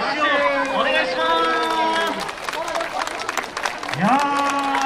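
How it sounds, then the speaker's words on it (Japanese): Audience applause and crowd noise at a stage performance, a group dance show at a food festival, continuous and fairly loud, with voices and cheers rising through it and speech-like tones over the clapping. "皆さん盛大な拍手をお願いします"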